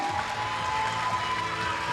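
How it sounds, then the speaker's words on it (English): A career symposium audience gives a brief burst of steady, washy applause heard from a distance, with a faint constant tone running underneath. "Give yourselves a round of applause, please."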